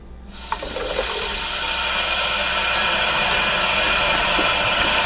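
Kitchen tap water running steadily in a continuous rushing hiss that builds slightly louder and stays close, with no voices over it.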